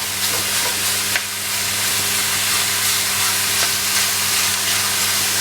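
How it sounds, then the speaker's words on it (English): Minced meat sizzling loudly in a hot pan while a spoon breaks it up, a steady bright fry hiss with occasional scraping taps, close and continuous with no talking. "I'm going to use my spoon to start breaking this up."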